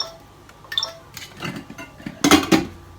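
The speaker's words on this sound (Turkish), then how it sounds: "Makarna yapacağım tencereyi de çıkartayım." A cooking pot for pasta is pulled out in a kitchen, metal cookware clanking and clinking against other pans in a few close, uneven knocks.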